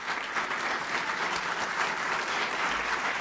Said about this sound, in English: you can continue clapping